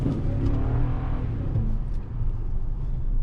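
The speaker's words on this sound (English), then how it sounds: "the engine. You can tow so much with this car and it sounds good while doing it too." A 2021 Toyota Tundra 4x4 pickup truck engine accelerates, droning and pulling steadily with a low, thick rumble, close and constant for the whole stretch, no voices over it.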